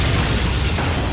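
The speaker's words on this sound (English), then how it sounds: "look how cool this explosion is" A movie explosion from the Child's Play horror film series, a loud, sustained rumbling blast with dense low-end roar filling the whole moment, no voices over it.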